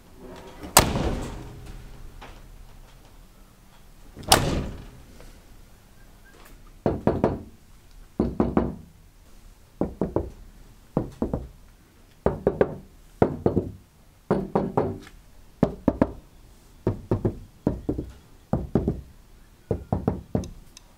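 Two separate sharp knocks, then a long series of hollow knuckle raps on a car door panel in quick bursts, close and fairly loud.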